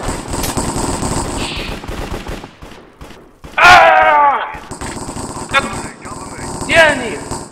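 Rapid machine-gun fire in a Minecraft shooter game, dense repeated bursts with sharp individual shots and a loud close blast midway, heard under players talking over voice chat.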